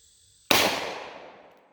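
A single sharp, loud gunshot from a .327 Federal Magnum handgun fired outdoors through a chronograph, with a quick decaying echo afterward.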